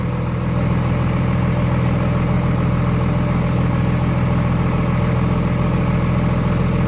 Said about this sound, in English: I noticed the idle is remarkably lower with these nozzles, the 50 horsepower nozzles on there.